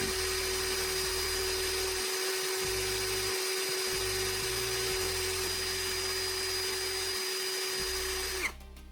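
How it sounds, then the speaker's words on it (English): A steady, high-pitched motorized whine runs continuously, a power drill spinning with a faint gritty grinding underneath, cutting off abruptly near the end. "I'm sanding a graphite rod on a small piece of sandpaper to create a pointed tip"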